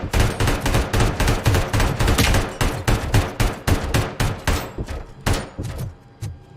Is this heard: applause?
no